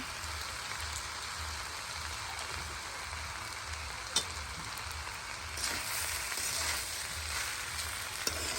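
Egg and ghee sizzling in a pan while fried rice is made with winter vegetables, a close, continuous hissing fry that swells slightly near the end, with a couple of light clinks and no talking.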